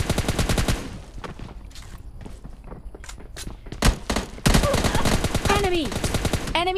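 Rapid automatic M4 rifle fire in the mobile battle-royale game PUBG Mobile Lite, dense rattling bursts through most of the stretch with a brief pause, loud and close, with game effects and faint chirps near the end.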